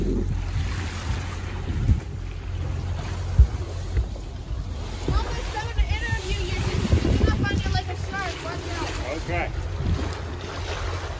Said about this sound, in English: I wish there was more wind so we wouldn't be motor sailing